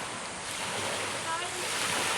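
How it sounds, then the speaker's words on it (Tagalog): Sea waves wash steadily onto a clear-water beach in Gloria, Oriental Mindoro, a continuous broad rushing surf mixed with wind buffeting the microphone, with faint voices in the background. "Pinapabitihan yung hampas ng dagat."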